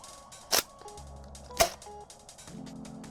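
A Nerf Rival pump-action slingshot blaster, a small single-shot sniper type, fires twice about a second apart with sharp snapping releases, followed by faint rattling mechanism sounds.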